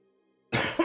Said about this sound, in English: I'm coughing and choking, by the way